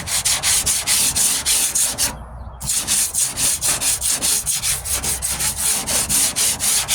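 Coarse 40-grit sanding on the rusted tailgate of a 1998 Ford Ranger during rust repair: loud, steady back-and-forth rasping strokes in a fast, even rhythm, with one brief pause early on.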